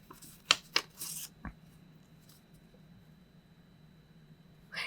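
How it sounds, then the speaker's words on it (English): Close crinkling and rustling of paper against a microphone, several sharp crackles early on, then mostly quiet with faint handling noise. "I hate the paper shuffle sound on the mic."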